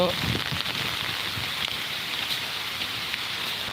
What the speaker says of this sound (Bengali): এখন গুড়ি গুড়ি একটু বৃষ্টি পড়ছে